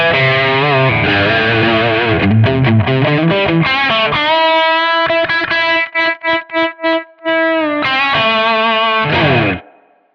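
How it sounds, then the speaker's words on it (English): An electric guitar through an Audota AME-200 Pro multi-effects unit with heavy Marshall-style overdrive plays crunchy chords, then choppy staccato stabs that a noise gate cuts sharply to silence between hits, before a final sustained chord. "I'm fairly happy with that sounds as a Marshall style drive"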